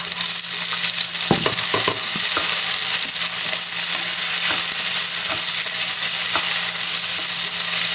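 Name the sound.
tomatoes frying with garlic in a pan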